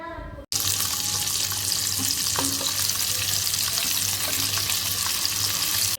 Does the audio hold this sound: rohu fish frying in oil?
yes